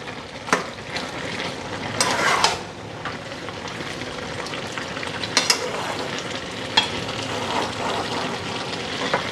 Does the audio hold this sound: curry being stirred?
yes